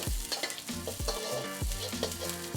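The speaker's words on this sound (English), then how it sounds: "Add the white section to the oil and stir around" Scallion whites frying in hot oil while being stirred, a bright crackling sizzle with repeated scraping strokes of a utensil against the pan, close and loud.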